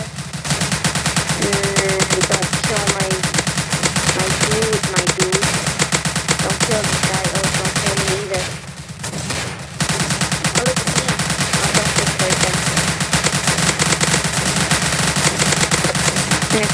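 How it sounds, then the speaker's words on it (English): Rapid automatic gunfire in a Roblox zombie shooter game, loud continuous bursts of shots with a brief pause midway before firing resumes, no talking. "I hear gunshots coming from over"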